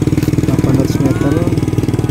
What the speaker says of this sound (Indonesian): Sepeda motor lagi lewat.